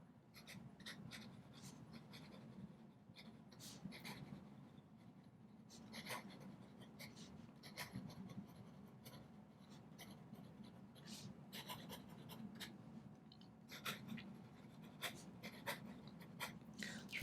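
An OMAS 360 Vision bronze fountain pen with a medium nib writes quickly on paper, giving soft, close scratchy strokes in an irregular rhythm over a low, quiet room hum.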